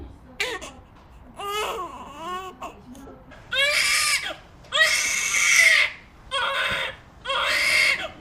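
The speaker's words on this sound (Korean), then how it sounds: "정상 울음은 소리의 높낮이가 규칙적이다" A newborn baby gives a regular hunger cry in loud, rhythmic wails, each lasting about a second and separated by short breaths, rising and falling evenly in pitch.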